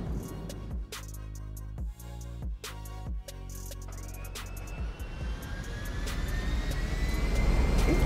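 Engine of a new airplane in the video game GTA 5, a steady drone broken by short rhythmic dips early on, then a rising whine that swells louder toward the end.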